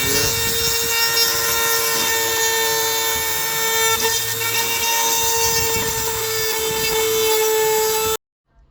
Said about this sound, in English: I'm trying to make a little grind around this little weld, little plastic weld.